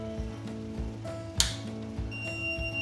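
A Morphy Richards soup maker, switched on with its lid closed, runs with quiet rhythmic mechanical ticking and clicking, low and faint, plus one sharp brief click midway.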